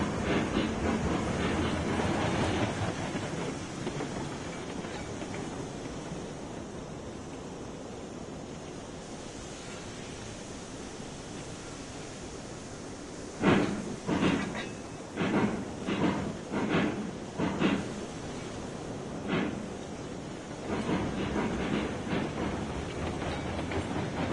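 In a video game, freight rail cars in a rail yard rumble steadily, then a run of rhythmic clanking impacts rings out as wagons couple and roll, fading back into a continuous rumble.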